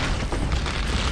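A loud, dense explosion boom in the Gears of War 3 video game, sustained and heavy for about a second with no talking over it.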